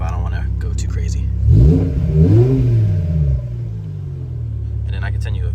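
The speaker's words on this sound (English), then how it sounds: "then I'll give you like a little baby rev" A 2008 BMW E60 M5 with a six-speed manual idles at home, then gives a brief, restrained rev that rises and falls before settling back to a steady idle rumble.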